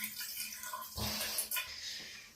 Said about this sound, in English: it's good to just pour it on the side of the drain like that so that it gets the sides